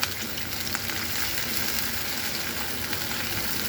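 Chopped onions fry in oil in a pan, giving a steady, close, dense sizzle with faint crackles throughout and no talking.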